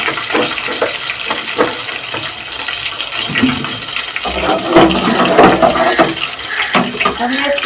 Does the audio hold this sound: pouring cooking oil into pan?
yes